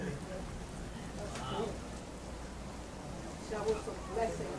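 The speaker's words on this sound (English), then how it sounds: "We have rain now." Rain falls steadily, a continuous hiss of drops on surfaces after a long dry spell, fairly even in loudness, with faint talk in the background.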